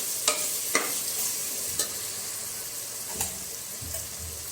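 Tomatoes sautéing in a pan for chicken biryani, a steady broad sizzle running throughout with a few sharp spatula scrapes and taps punctuating it, no voices.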